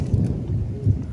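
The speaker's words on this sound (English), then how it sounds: "Oh, she's thundering out." Low, rolling thunder in the Arizona desert, a deep rumble that swells twice across a little over a second with no voices over it.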